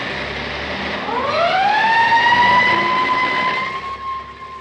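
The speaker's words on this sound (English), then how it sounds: "those are the sounds of a school bell and fire engine" A fire engine siren rises in a sweeping wail and holds a steady high tone, loud and close. No school bell is evident.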